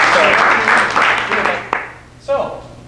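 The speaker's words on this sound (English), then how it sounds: "Why don't we give our judges a round of applause?" An audience at a startup demo day claps for the judges in a dense, fairly loud burst that fades out after about two seconds, then a voice begins talking.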